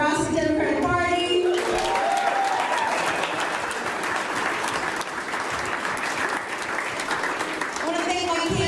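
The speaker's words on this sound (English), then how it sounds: "We give a round of applause to the Nebraska Democratic Party." A crowd at an election-night victory event in Lincoln breaks into sustained applause and cheering, with a speaker's voice at the start and end and the clapping swelling loudly in between.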